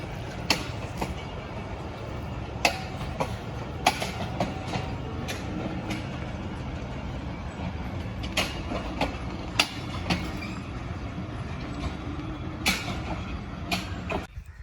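A train rolls along the track at Mandra railway station with a rumbling hum and a rhythmic clickety-clack of wheels over rail joints, the sharp clicks repeating every second or so.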